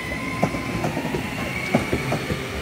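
Class 331 electric unit 331025 moving at Manchester Piccadilly, with steady rumbling running noise, a sustained tonal whine and irregular wheel clicks over rail joints, fairly loud and without voices.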